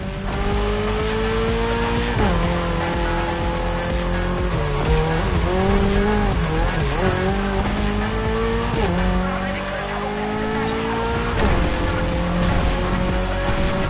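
A Toyota GR86 race car's engine drones loud and close through gear changes in a racing video game, its pitch climbing and dropping across shifts, with tire squeal and skidding layered over the steady roar throughout.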